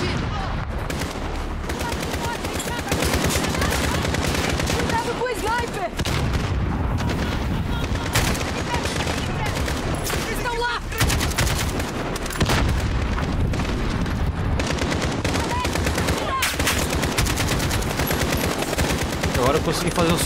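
Sustained suppressive gunfire in Call of Duty Modern Warfare 2019, dense rapid automatic bursts with booms mixed in, loud and continuous across the whole stretch with brief gaps.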